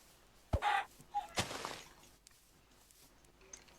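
Short synthetic chicken clucks and a sharp pop sound in quick succession, then quieter ambient noise; Minecraft game audio.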